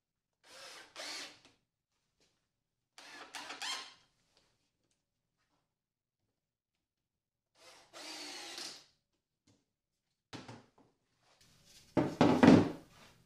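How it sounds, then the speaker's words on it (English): A power drill whirs in several short bursts separated by silence while drilling pilot holes in wood, close and fairly loud, the last burst strongest. "I pre-drill the pilot holes first"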